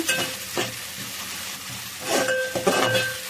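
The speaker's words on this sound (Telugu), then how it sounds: "అల్లం వెల్లుల్లిపాయ పేస్ట్ ఉల్లిపాయలు ఇవి బాగా వేసిన తర్వాత అవి కలపటమే బాగా వేగిపోవాలండి ఎర్రగా" Onions with ginger garlic paste fry in a pan, a steady sizzle broken by scraping stirs and clinks of the spoon, close and fairly loud with no talk over it.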